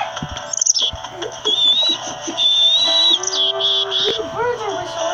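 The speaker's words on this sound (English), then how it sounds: "Birds are whistling" Birds whistling and chirping in the video game WolfQuest, with bright tweets and sliding whistled calls close by, mixed with scattered rustling and brief sounds beneath.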